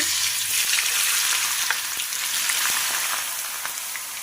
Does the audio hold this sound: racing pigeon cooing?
no